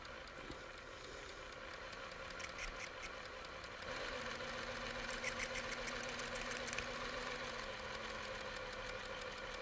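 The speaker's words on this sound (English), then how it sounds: "while you're winding a bobbin you can be sewing at the same time" JACK industrial straight stitch sewing machine runs with its bobbin winder driven off the main shaft, making a faint, steady motor hum that rises slightly in pitch partway through.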